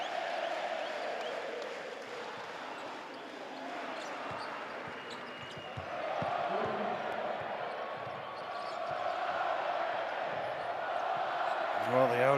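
Home crowd at an Argentina versus Canada basketball qualifier for the 2023 FIBA World Cup, a continuous arena roar that swells louder toward the end, with ball bounces and a commentator talking over it.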